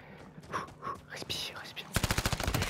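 Rapid automatic gunfire from a 1v1 video game bursts out in a fast steady rhythm, loud and close, following a stretch of quiet, indistinct low voices.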